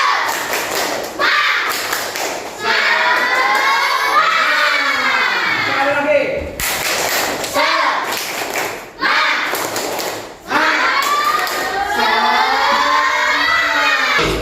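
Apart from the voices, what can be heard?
schoolchildren doing a tepuk semangat clapping chant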